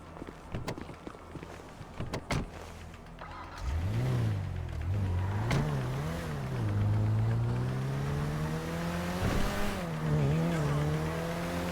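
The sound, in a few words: car driving in Grand Theft Auto V video game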